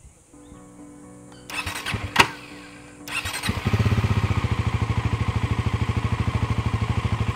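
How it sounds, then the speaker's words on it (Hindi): Bajaj Pulsar NS400Z motorcycle starting up: a quiet hum and a brief whirring crank, then the engine fires and settles into a loud, close, steady rhythmic idle. "अब इस बाइक को स्टार्ट करते हैं और देख लेते हैं इस बाइक का साउंड कैसा है।"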